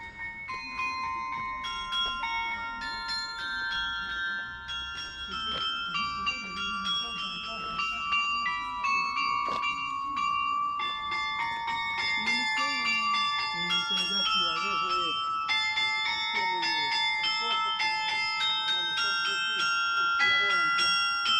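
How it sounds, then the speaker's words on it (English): Bells ring out across a hilltop village in Provence, a long, steady cascade of overlapping chimes with sustained ringing tones that grow slightly louder, with faint talk beneath. "a mysterious siren song of bells rang through the town"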